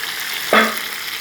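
Vegetables, Chinese kale, go into a pan of frying shrimp with fermented soybean paste, and a short burst of sizzle flares up over a steady background crackle.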